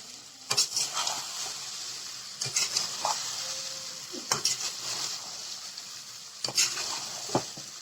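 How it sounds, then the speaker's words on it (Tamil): Indian gooseberries frying in oil with salt for pickle, giving a steady close sizzle broken by four sharp scraping clinks of a spoon stirring the pan at regular intervals, with no talk. "இதெல்லாம் 2 நிமிஷம் நல்லா வதங்கணும் எண்ணெயிலேயே"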